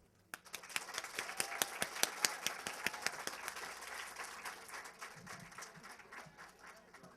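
An audience at a book festival applauds to welcome author Andrew Clements, a crowd of hands clapping with sharp individual claps at first, swelling into sustained applause and then gradually thinning out, heard at moderate distance.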